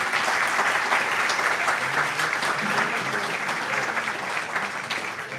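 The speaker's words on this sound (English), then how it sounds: "C'est bon, on peut l'applaudir quand même." Sustained audience applause at a conference lecture by an astrophysicist, dense even clapping throughout, fairly loud and steady from start to finish.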